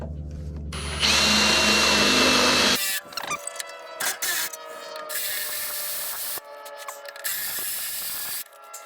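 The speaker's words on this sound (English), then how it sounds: "What I really hope is that I can get this done with this one drill bit that they supplied" A power drill whirs loudly for a couple of seconds, then bursts of grinding and scraping follow in uneven spurts as the bit works into material.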